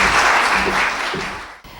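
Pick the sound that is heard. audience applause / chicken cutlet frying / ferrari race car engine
audience applause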